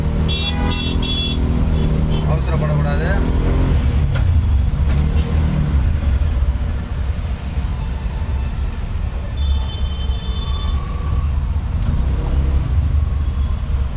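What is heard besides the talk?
road traffic in Chennai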